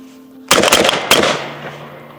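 A brand-new Browning A5 20 gauge semi-automatic shotgun loaded with high brass shells fires several loud, sharp shots in quick succession, each ringing out before the echo fades.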